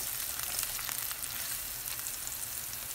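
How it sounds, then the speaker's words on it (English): Garlic and chilies in two tablespoons of hot oil in a pan make a continuous, fairly quiet frying hiss with small crackles, heard alone. "heat the pan and put 2 tablespoons of oil in it. And then you add the garlic and the chilies"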